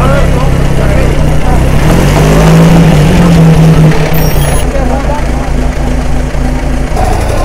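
A vintage Type 40 car engine runs loud and close at a gathering of old cars, holding a steady rumbling idle before revving as it pulls away, with faint voices in the background.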